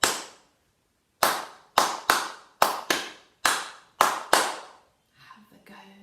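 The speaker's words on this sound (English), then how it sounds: "So I'm going to clap the first little rhythm, and I'd like you to clap it back to me" Hands clap a syncopated rhythm of eight sharp, close claps with uneven spacing and a rest after the first clap, followed by faint background noise.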